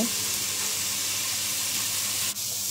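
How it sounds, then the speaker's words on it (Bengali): Onion, ginger, cinnamon, cardamom and bay leaf fry in a pan for a beef dish, a steady hiss of sizzling oil at moderate level, with a short dip near the end. "পেঁয়াজ, আদা, দারচিনি, এলাচি, তেজপাতা এগুলো দিয়ে এখন কষানো হচ্ছে।"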